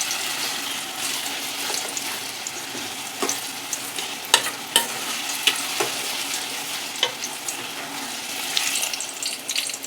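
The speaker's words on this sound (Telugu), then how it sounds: "మధ్య మధ్యలో తీసి కలుపుతూ ఉండాలి అడగంటకుండా" A tomato and drumstick curry with eggs sizzles and bubbles in a pan while a utensil stirs through it, giving a steady close fry hiss broken by sharp, irregular scrapes and clacks.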